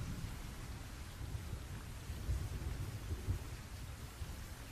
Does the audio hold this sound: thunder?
yes